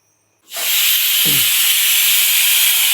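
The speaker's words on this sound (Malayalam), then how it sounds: "അപ്പോൾ 2ാമത്തെ വിസിൽ വരുന്നിട്ടോ." Kitchen pressure cooker releasing its whistle: silence, then a sudden loud hiss of escaping steam that holds steady and strong for several seconds, with a short low rattle shortly after the onset.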